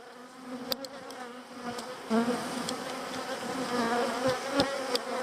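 Honeybees buzzing steadily around an opened hive full of honey, a dense close drone of many insects with occasional individual bees passing near.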